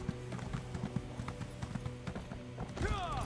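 Horse hooves clip-clop at a steady walking rhythm in The Elder Scrolls Online, close and clear under a game soundscape, with a brief whinny-like sweep near the end.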